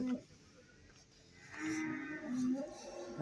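Buffalo mooing at a busy festival cattle market, with two or three low drawn-out bellows in the middle and end of the stretch over a murmur of crowd noise.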